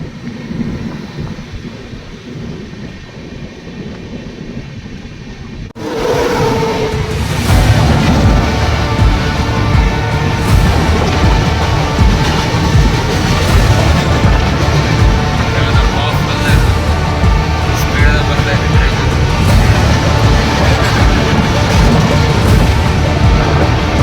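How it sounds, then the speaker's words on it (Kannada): The Pune AC Duronto Express rushes past at full speed, a sudden loud, dense roar and rumble of wheels and wind that stays heavy and continuous after a quieter opening. "12264 ಪುಣೆ AC ದುರಂತ ಎಕ್ಸ್ಪ್ರೆಸ್. ಅದು ಫುಲ್ ಸ್ಪೀಡ್ದಾಗ ಹೋದ."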